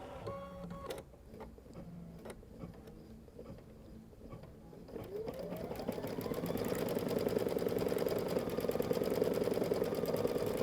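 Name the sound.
embroidery machine stitching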